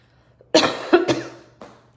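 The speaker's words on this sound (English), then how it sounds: "But, oh, I gotta clear my throat." A person coughs and clears their throat, a few loud harsh bursts close to the microphone with quiet gaps between.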